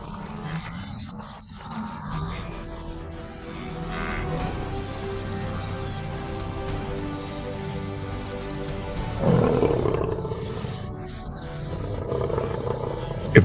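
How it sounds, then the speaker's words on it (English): A wild lion gives deep, drawn-out roaring in open country, moderately loud with rising grunting swells near the middle, set against a low ambient background. "when the roar rises through the darkness, everyone knows the same truth. The king is still on patrol"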